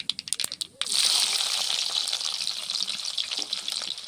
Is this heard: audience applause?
no